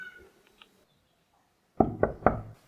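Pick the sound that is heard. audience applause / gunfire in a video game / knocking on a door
knocking on a door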